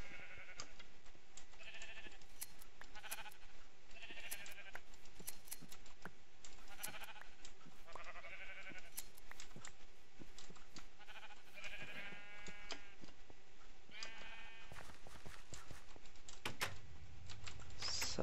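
Sheep in a Direwolf20 Minecraft modpack bleat again and again at irregular moments over a steady mechanical hum and faint clicking and pattering, with no talking.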